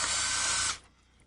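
A drill drives a fine-thread screw into a plastic building block. A close, high whirring buzz lasts under a second and then stops, followed by quiet room tone.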